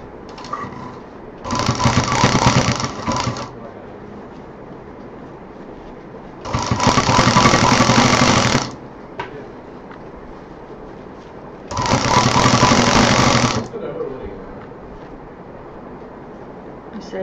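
Sewing machine stitching a homemade door mat runs in three loud buzzing bursts of about two seconds each, with a quieter background and talking between the runs.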